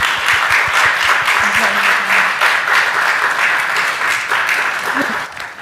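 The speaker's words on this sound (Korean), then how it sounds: "오늘 강연을 위해 수고해 주신 박정남 사무처장님께 큰 박수 부탁드립니다." Sustained applause from a lecture audience closing a talk on living alongside foreign workers, dense steady clapping with a faint voice briefly underneath.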